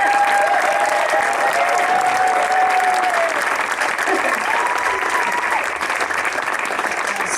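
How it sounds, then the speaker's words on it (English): Sustained applause from a live outdoor musical audience for the writers of the music, a steady broad clatter of many hands, with a faint whistle or held tone audible early on. "just a round of applause for"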